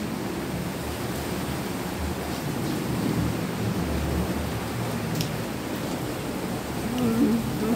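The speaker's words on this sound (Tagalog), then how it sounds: "Ang lakas ng ulan." Heavy rain pours in Cavite, a steady, dense broadband wash that stays loud and close throughout, with no voices over it.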